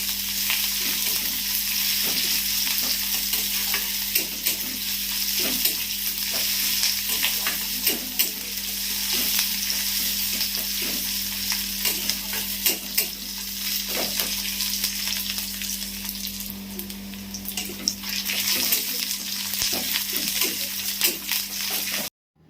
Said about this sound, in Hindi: पहला कड़ाई रे तेल गरम करागला आउ तेल गरम हैला परे दिया हैला प्याज तापरे प्याज के भल से टिके फ्राई करमा